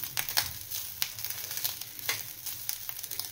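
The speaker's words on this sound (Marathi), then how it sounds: "खोबरं तुपात चांगलं भाजलं की तुम्हाला दिसत असेल हे असं मोकळं मोकळं छान होतंय" Fresh grated coconut roasting in ghee for a sweet karanji or modak filling gives a steady, close sizzle and crackle, with soft stirring scrapes recurring through it.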